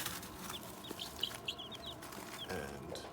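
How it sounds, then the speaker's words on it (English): Backyard chicks and guinea fowl cluck and chirp in short, scattered calls at a modest distance. Several bright peeps rise over a quiet background. "So we've got 2 chicks and 2 guineas."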